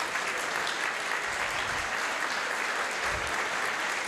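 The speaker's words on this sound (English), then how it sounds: "Applause for them." An audience at a health systems conference plenary applauds Irish attendees as they stand, producing a dense, steady wash of clapping that holds evenly for the whole stretch without any voices on top.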